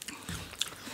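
Ready-to-eat water chestnut bitten into, a single short crisp crunch with a brief crackle, close and fairly quiet.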